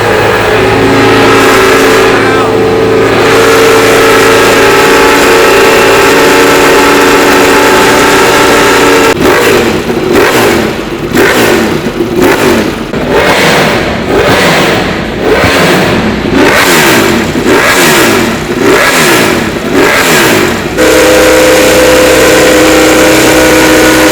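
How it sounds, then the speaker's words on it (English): A Ducati Desmo motorcycle engine starts and idles close by, then sharp repeated revs surge and drop in a loud rhythmic burst before settling back to a rumbling idle. "So we're about to start up the Ducati Desmo."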